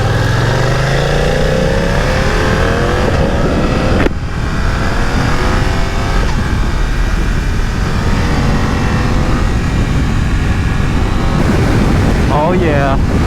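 A 2020 BMW F900R motorcycle engine drones and revs while riding, pitch rising in sweeps as it accelerates, loud and constant under heavy wind rush, with a rider talking over it.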